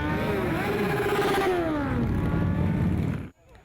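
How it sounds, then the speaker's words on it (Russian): Around seventy sport and classic motorcycles ride into the capital of Ingushetia at a season-opening bikers' event, their loud engines revving and passing with rising and falling pitch before cutting off abruptly. "Порядка 70 мотолюбителей, как на спортивных, так и на классических мотоциклах,"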